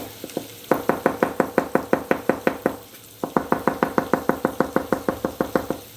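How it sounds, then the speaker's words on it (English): Knife slicing mushrooms on a chopping board, two quick runs of evenly spaced crisp knocks, about a dozen cuts each with a short pause between, close and clear with no talking. "slicing our mushrooms up"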